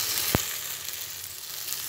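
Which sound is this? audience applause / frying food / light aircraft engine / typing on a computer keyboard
frying food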